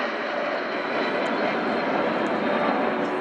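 Aircraft of the Patrulla Aguila aerobatic team flying at the RIAT airshow at Fairford, a steady, dense broadband engine roar holding at an even level throughout with no voices.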